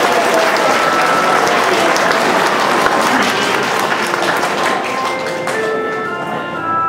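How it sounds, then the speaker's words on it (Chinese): Sustained audience applause at an anniversary gathering in Atlanta, dense and loud throughout, easing slightly toward the end. "请大家鼓掌谢谢他。"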